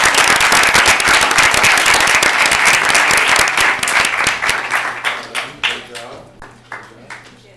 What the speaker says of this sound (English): Can we give Ms. Jill a round of applause